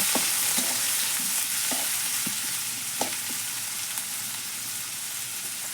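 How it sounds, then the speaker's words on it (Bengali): Onions frying in a pan with garlic, a steady close sizzle broken by intermittent utensil scrapes and clicks as they are stirred, without speech. "পেঁয়াজ দিয়ে ভালো করে নেড়ে চেড়ে নিব"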